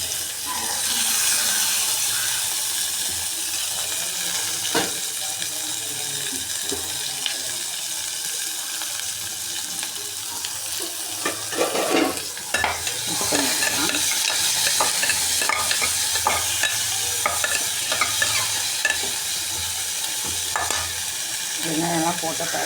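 Onions frying in oil in a pan while being stirred, a steady sizzle with scraping spoon strokes and occasional clinks, close and continuous, with a faint tap-water wash in the background.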